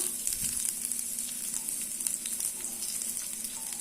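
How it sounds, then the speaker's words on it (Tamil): Small shallots, dried red chillies and mustard seeds frying in oil in a pan for Madurai-style thin chutney, a continuous bright sizzle with faint scattered crackles and no talking. "இந்த வெங்காயம் கொஞ்சம் வதங்கட்டும்"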